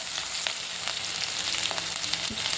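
Chopped garlic, green chilli and onion sizzle in a pan, with a steady bright crackle and a few scraping stirs, close up and with no talk.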